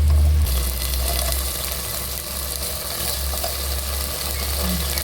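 Ginger garlic paste and green chillies fry in a pan for a simple chicken curry, giving a steady, close sizzle with stirring throughout and a low hum at the very start.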